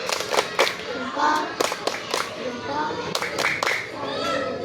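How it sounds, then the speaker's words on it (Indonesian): Children in a classroom clap in short rhythmic bursts during a lesson, with a teacher and kids talking between and over the claps. "Tepuk salut juga untuk Kayla"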